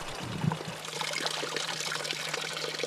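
Spring water in the Sierra de Albarracín pouring steadily from a fountain spout, a continuous close splashing trickle heard alone.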